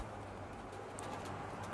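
Pigeons coo softly in breeding coops, a few faint calls over a steady background hum.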